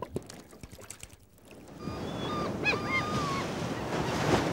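Sea waves on the Andalusian coast roll in as a steady broadband wash that builds after a quieter start, with a few bird-like chirps over the surf and no talking.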